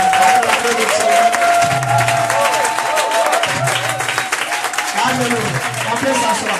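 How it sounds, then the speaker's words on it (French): A church congregation applauds and cheers in praise, a dense, steady wash of clapping and voices that continues throughout, with a voice calling out over it. "Voilà, j'aimerais qu'on acclame Jésus."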